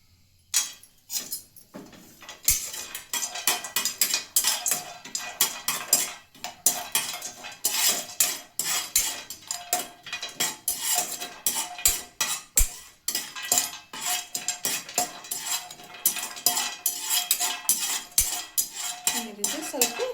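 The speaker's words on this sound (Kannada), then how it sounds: "ಈಗ ಅರ್ಶಿನ ಕೊಂಬು ಬಿಸಿ ಮಾಡ್ಕೊಂಡ್ರಿ ಫ್ರೆಂಡ್ಸ್" Whole turmeric roots roasting in a pan for homemade North Karnataka dhania masala, scraped and stirred with a metal utensil in dense, continuous clattering and rattling that runs nearly the whole time.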